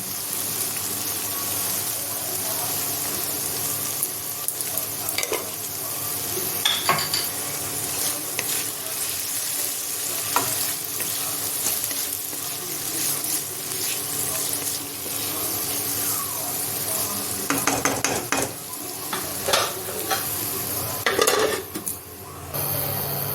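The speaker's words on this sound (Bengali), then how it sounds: "এখানে আমার গোটা মশলা ভাজা হয়ে গেছে" Whole spices fry in a pan with a constant close sizzle, punctuated by scattered clicks and scrapes of stirring, busier toward the end.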